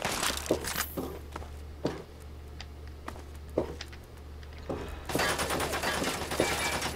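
Scattered sharp gunshot bursts from the video game Fallout 3 ring out over a steady low hum, with a denser crackle of gunfire toward the end.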